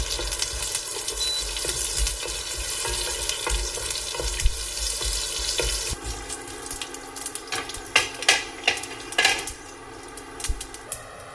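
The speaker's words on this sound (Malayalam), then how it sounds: "കടുക് പൊട്ടിയതിലേക്ക് കറിവേപ്പിലയും വറ്റൽമുളകും ചേർക്കാം" Mustard seeds, curry leaves and dried red chillies crackle in coconut oil in a pan, first a dense steady sizzle, then sharper scraping and clinking of a utensil against the pan with uneven bursts of frying.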